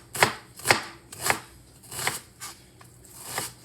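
A knife chops through onion on a cutting board in six sharp, evenly spaced strikes. The sound is close and crisp, with no voices.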